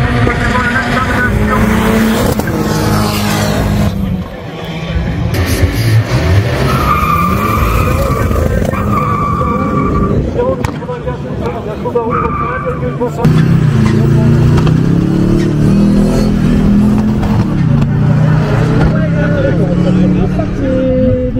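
A Ford Fiesta race car revs hard and skids around a track, engine roaring loudly with tyre squeal and shifting pitch throughout, while a voice talks over parts of it.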